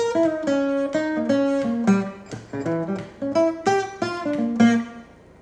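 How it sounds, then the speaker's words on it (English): A clean guitar plays a bluesy western swing lick of plucked single notes and bends at a relaxed pace, up close with no voices. "So what I'm doing there is just playing a nice little blues lick."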